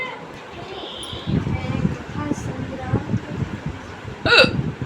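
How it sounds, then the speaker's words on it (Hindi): Several sharp hiccups from a woman seated in a kitchen kneading dough, the loudest one coming near the end, with soft rustling and background noise between them. "और तभी मुझे हिचकी आ गई।"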